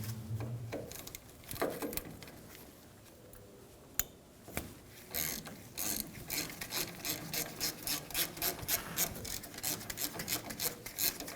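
A ratchet fitted with a 10mm socket backs out the ABS sensor bolt on the steering knuckle of a 2005-2015 Toyota Tacoma. Rapid, rasping clicks come in close repeated bursts, growing busier toward the end, with no talking.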